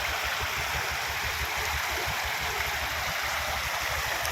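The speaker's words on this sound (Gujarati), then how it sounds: "આ ટાંકી ઓવરફુલ થઈ ગઈ છે." Water pouring over the brim of an overfull municipal tank in the Dungri area, a steady dense rushing splash held at one level throughout, close and loud with no voices.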